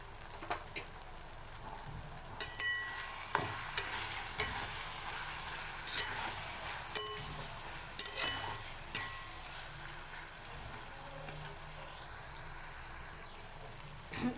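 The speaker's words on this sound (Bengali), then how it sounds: "মশলা কষা হয়ে গেছে আর কাঁচা মশলার কোনো গন্ধ বেরোচ্ছে না" Spices for palak paneer being stir-fried in a pan: a soft steady sizzle with intermittent sharp scrapes and knocks of a spoon against the pan, close up and without talking.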